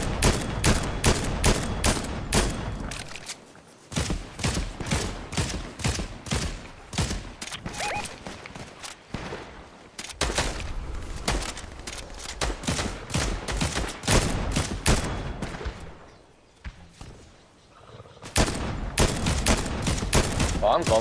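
Dense, rapid gunfire from the Fortnite video game plays almost continuously in loud bursts and volleys, dropping out briefly a few times before resuming at full intensity.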